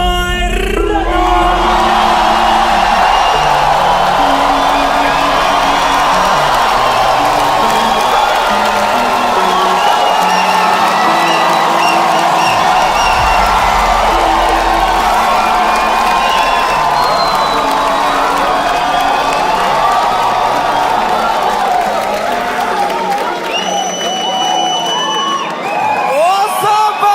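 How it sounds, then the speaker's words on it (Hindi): A live stand-up comedy crowd cheers, whoops and applauds a comedian walking on stage, a loud sustained roar of clapping and shouting that carries on for the whole stretch, with a host's voice calling out over it. "एक बार जोरदार ताली बजा दो सबके लिए भाई"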